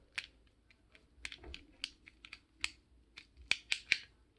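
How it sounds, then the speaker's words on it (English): Buttons on a DIY 3D-printed Android game controller click sharply in an irregular series of about fifteen close, crisp taps, with a few louder snaps near the end. "You can hear, the buttons clicking."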